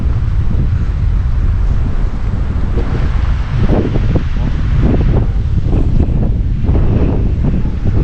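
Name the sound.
strong wind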